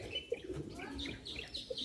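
Bombay pigeons, a pair kept in a loft, make soft low calls mixed with brief higher chirps and a faint flutter. The calls come in short bursts over steady background noise, with murmured voices nearby.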